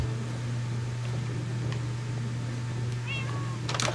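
A Minecraft cat meowing, a couple of short mews over a steady electronic hum, faint and brief near the end.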